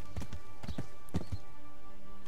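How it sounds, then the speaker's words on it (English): Hoofbeats clip-clop in an uneven trot, close and clear, with a brief horse whinny mixed in over steady background ambience; no talking. From the game Kingdom Come: Deliverance. "I should call on my little horse here, Pebbles, and then ride north."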